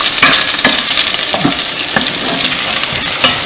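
Carrots sizzle steadily in a hot pan, a loud continuous frying hiss broken by a few brief stirring scrapes and clatters, with no voices.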